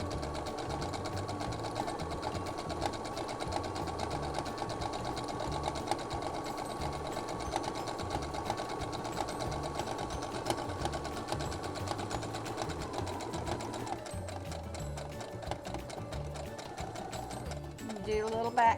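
A sewing machine runs in a fast, continuous rhythmic whir as it stitches fabric with lime green thread for a soup bowl cozy, slowing into separate stitch clicks near the end, with a voice talking over it.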